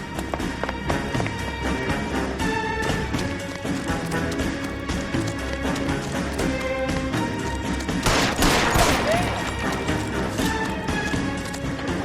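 Gunfire and chaotic action in the L.A. Noire video game, with dense game noise and music throughout and a louder burst of shots or impacts near the end.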